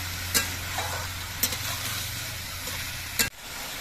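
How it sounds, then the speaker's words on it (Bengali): Vegetables fry in a pan for a spicy mourala fish chorchori, a steady close sizzle broken by three sharp scraping stirs of the spatula. "এবার সবজিগুলো কিছুক্ষণ ভেজে নিতে হবে"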